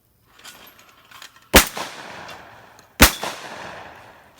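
Two loud, sharp shotgun blasts about a second and a half apart on an outdoor sporting clays course, each fired at a thrown clay target and trailing off in a brief echo, with faint outdoor background between shots.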